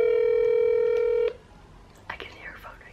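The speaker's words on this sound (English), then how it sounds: "I can hear her phone ringing." A phone call placed with Siri comes through as a steady loud ringback tone that stops abruptly, followed by faint soft speech in the room.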